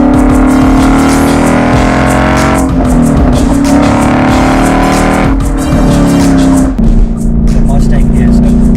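A Ford Mustang with a Coyote V8 roars loudly and up close, with steady engine drone broken by several rev changes and shifts, heard from inside the car with no talk over it.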